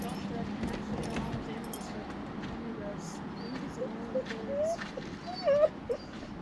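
A dog named Emmy whimpering on an early morning drive, with soft high whines rising toward the end over steady road rumble, a faint jingle of keys and people talking nearby.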